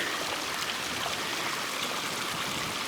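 A clear mountain stream on a summer hike flows in a steady, close, full rush of water that continues without pause and without voices.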